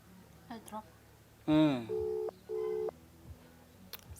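A telephone line goes to a busy tone after the call is hung up: a short descending burst, then two evenly spaced steady beeps, clear and close, with faint background sounds around them.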